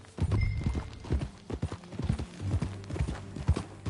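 Horse hooves clip-clop in Red Dead Redemption 2, a brisk, steady series of close, distinct strikes on a hard path, with a brief faint snort or breath near the start.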